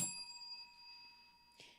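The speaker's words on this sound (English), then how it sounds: "I got to give you a bell." Single bell ding with long ringing tones sustaining across the clip, fairly faint and alone, with a brief soft strike near the end.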